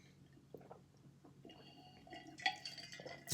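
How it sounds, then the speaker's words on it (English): A person drinks water indoors: a few soft sips and wet swallowing sounds, close and quiet, with no talking. "Let me drink my water as we end this out."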